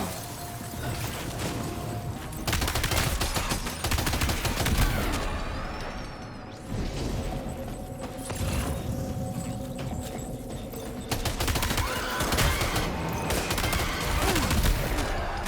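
Gunfire during a boss fight in the video game Death Stranding 2: loud, rapid shots burst through a dense, continuous mix of game music and effects, with heavy clattering impacts that stay steady almost throughout.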